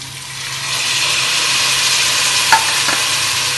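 Carrots, beans and green peas sauté in a pan with onion and green chili, giving off a steady, fairly loud hiss, with a couple of brief utensil taps near the end.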